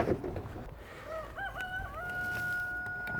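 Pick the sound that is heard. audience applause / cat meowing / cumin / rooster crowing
rooster crowing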